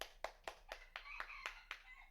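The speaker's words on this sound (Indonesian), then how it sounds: "Tepuk tangan untuk kita semua." A classroom group claps hands in a steady, even rhythm of about eight sharp claps, close and clear, with no talking over them.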